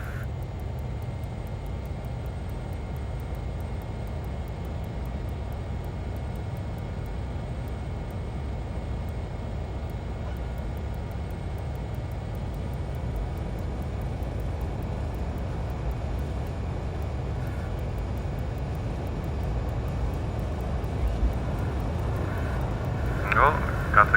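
Twin jet engines of a Learjet 35A in Microsoft Flight Simulator spool toward full takeoff power, a steady, fairly quiet broadband roar that builds gradually, with a brief click near the end.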